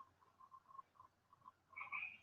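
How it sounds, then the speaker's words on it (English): A small tree frog croaks from palm trees outdoors, a faint repeated chirping trill in an uneven rhythm at a distance, rising to a slightly louder call at the end over a low background hum. "Listen to that little tree frog. He's so happy sitting in those palm trees out there croaking away."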